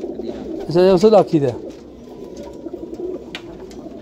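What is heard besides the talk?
Teddy pigeon cooing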